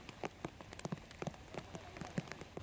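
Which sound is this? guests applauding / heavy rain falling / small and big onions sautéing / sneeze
heavy rain falling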